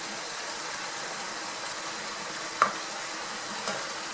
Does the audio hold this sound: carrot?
yes